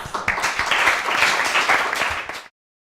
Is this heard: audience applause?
yes